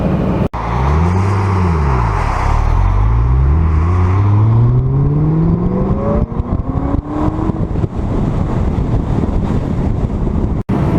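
A 2006 Ford GT's engine revs and accelerates hard while driving, its pitch climbing through several gear pulls with wind rushing loudly over the car throughout.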